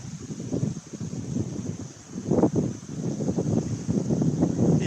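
Outdoor wind gusts roar steadily across the microphone in a Philippine setting, a broad rumbling buffet that swells and eases over about five seconds with no talking.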